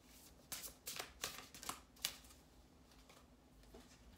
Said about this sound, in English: I'm gonna pull some more cards to kind of see